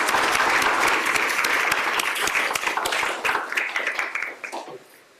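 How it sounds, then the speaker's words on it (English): Audience at an Earth Week keynote clapping in a dense burst of applause that holds steady for several seconds, then thins into scattered claps and fades out. "maybe just a round of applause for the whole team"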